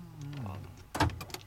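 A car door locks with a short, loud mechanical clunk followed by a couple of quieter clicks, right after a voice speaks briefly nearby inside a vehicle.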